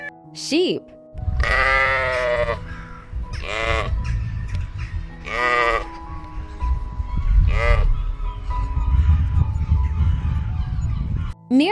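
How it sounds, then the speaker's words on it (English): Sheep bleat in four or five loud, wavering calls close by, over a continuous low rumble and background music, with a brief spoken word at the start. "Sheep."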